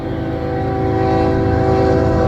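CN freight train M357, led by locomotive 2872, rolls past at Ladysmith, its horn sounding a loud sustained tone over a heavy steady rumble of the passing train.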